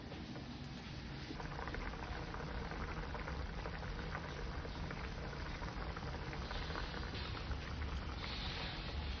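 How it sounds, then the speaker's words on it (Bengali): A pot of pumpkin and potato curry for a katla fish jhol bubbles at a steady boil, a continuous, dense churning hiss that stays even and close throughout with no talk. "এবার তরকারিটাকে আমি ফুটিয়ে নেব ভালো করে।"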